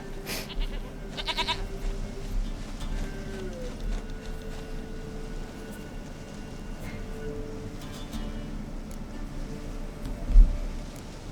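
A goat in The Witcher 3: Wild Hunt gives a few short, wavering bleats early on, then falls quiet beneath faint background ambience and a soft thump near the end.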